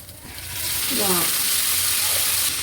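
Goat brain frying in hot oil with ginger-garlic paste, ground masala and turmeric: a loud, steady sizzle swells in after a quiet start and holds, with a brief voice underneath.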